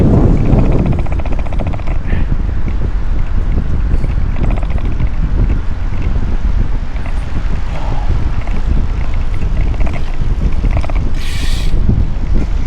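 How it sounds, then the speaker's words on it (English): Strong wind buffets the microphone during a bike ride through Kingston, a loud, continuous low rumble that dominates throughout with brief rustles on top. "Still a bit windy, Mary."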